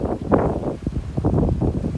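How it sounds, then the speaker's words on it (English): Strong gusts from the Woolsey wildfire in Malibu buffet the microphone in a loud, continuous low rumble with irregular surges, close and unbroken for the whole stretch, with no voices. "what's the real problem right now is the wind"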